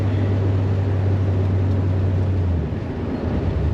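A car engine running on two-step launch control, fuel-injected by Holley EFI and fitted with a Nitrous Express Proton nitrous kit, holds a loud, steady low drone close by for over two seconds before the note drops away.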